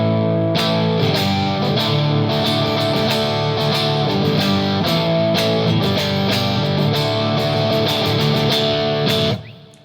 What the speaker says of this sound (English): Okay, now let's turn on the pedal, just gain A, with the settings that I had on,